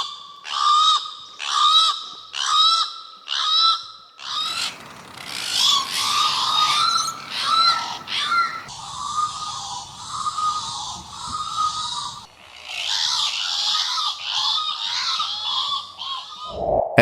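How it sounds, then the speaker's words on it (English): Harsh, raucous channel-billed cuckoo calls repeated in rhythmic bursts, loud and fairly near, with a chorus of overlapping squawks later on. "the channel-billed cuckoo also stands out for the distinctive, shrill, and repetitive sound it can emit"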